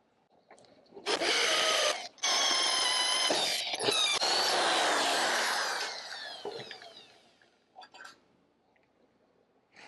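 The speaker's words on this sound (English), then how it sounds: "I'm just going to run a 3/8 inch drill down through the hole" A 3/8 inch drill bores loudly into a Harley Ironhead cylinder head, a high whining grind that runs for about five seconds with a brief break, then winds down into quieter clanks.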